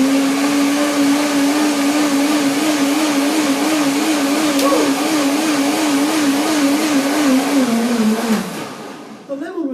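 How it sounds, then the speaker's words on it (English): Blender whirring steadily while blending raw vegan pudding with molten oil for a blueberry layer cake, a loud continuous motor whine with slight wavering pitch for about eight seconds before it winds down and cuts off. "I put the molten oil into the pudding, blend it again"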